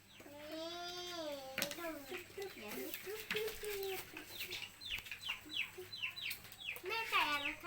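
Hen clucks and chirpy calls rise and fall close by, mixed with voices speaking at a moderate level.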